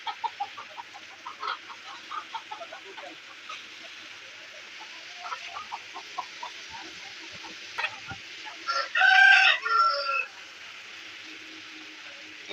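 Village chickens cluck in short, soft bursts. One louder, drawn-out call, like a rooster's crow, rises near the end over a faint background hum.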